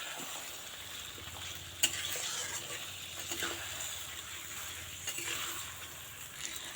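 Salted mutton is stirred as it fries in a pan, a quiet continuous sizzle with occasional spoon scrapes and one sharp knock against the pan.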